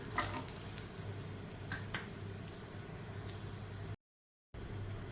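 Golden-brown onion frying with cashews in a pan for butter chicken, a faint constant sizzle with a few brief stirring scrapes, heard close and alone, broken by a short gap of silence.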